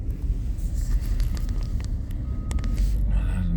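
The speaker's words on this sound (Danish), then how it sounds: "Der er en lastbil fra før, den skal op og gøre sig klar." A truck gives a series of faint reversing beeps over loud, steady engine rumble and wind noise outdoors.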